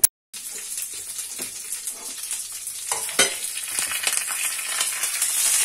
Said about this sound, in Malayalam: ഈ കടു വറുത്തതോടെ ഇട്ട് ഇളക്കിയാൽ മതി.